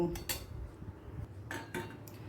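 Lentil fritter curry made with split peas is poured from a cooking pot into another vessel in a home kitchen, giving a few close metal clinks and scrapes of pots and utensils with no talking.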